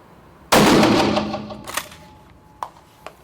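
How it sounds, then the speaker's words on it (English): A single loud shotgun blast fires indoors at a moving-target shooting cinema, echoing and decaying over about a second, followed by a few faint clicks and small thumps. "That's a good shot, and that's a difficult target."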